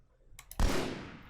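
A full-auto battle rifle in a first-person game fires a single sharp, loud report after a couple of faint clicks, with the blast ringing out and decaying over the following second.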